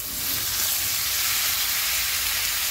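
Onions frying in a pan give a continuous, even sizzle with a bright hiss throughout, close and alone with no talking.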